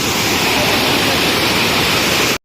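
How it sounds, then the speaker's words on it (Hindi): Umru waterfall in West Karbi Anglong, a loud, continuous roar of rushing water that fills the sound without a break. "देखो वाटरफॉल।"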